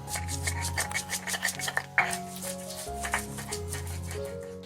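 Cumin and other spices are ground into paste for a chui jhal chicken curry, with scraping, rubbing strokes in an uneven rhythm, close and fairly quiet over background music.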